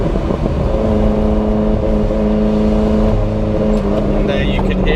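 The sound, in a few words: car engine misfiring while driving, Ferrari Enzo replica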